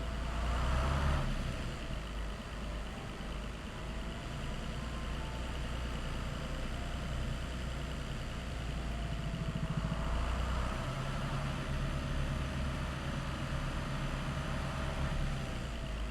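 A truck engine in the video game American Truck Simulator rumbles steadily at low pitch throughout, a constant droning hum with slight swells, no voices.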